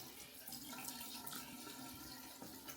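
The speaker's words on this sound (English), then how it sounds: "All right, so now let's rinse." Steady running water, as from a tap while a face is rinsed, pours continuously with light splashy variation, moderately quiet and without speech.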